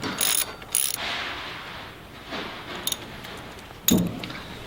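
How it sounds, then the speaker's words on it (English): A ratchet cranks down the pinch bolts on an inverted front fork of an electric bicycle, giving short bursts of rapid clicking close by with pauses between strokes, no talk. "So you're going to want to crank these down first."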